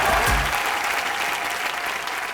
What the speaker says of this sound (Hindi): जोरदार तालियां होने हरभजन भाई के लिए।